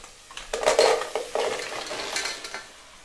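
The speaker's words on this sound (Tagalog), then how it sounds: "kailangan natin itong haluin." A spoon stirs mussels and chicken liver adobo in a pan, making scraping and clattering strokes over a soft sizzle, with a few louder bursts.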